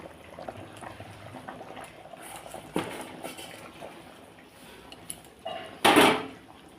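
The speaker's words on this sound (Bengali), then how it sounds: "এই যে ঝোলটা পুরো টপক করে ফুটে গেছে" Fish curry broth in a pan simmers with a low bubbling bed under kitchen clatter, building to a louder splash or sizzle near the end as fish is likely added.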